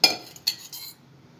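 A metal spoon clinks against a bowl while yogurt is added to a chicken marinade: a sharp tap, a second clink, then a softer scrape, close and alone before quiet.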